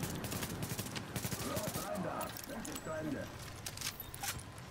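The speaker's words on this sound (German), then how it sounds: "Und wieder habe ich eine Granate geschossen für nichts" A grenade launcher and gunfire crack repeatedly in the shooter game The Division, a dense run of distant reports and battle noise under someone speaking German.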